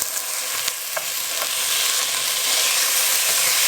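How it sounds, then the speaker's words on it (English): Ground beef sizzles steadily in a pan with a little oil, with a few scraping spoon strokes breaking it up near the start, all loud and close with no talking. "And we're going to break this up and get this beef going."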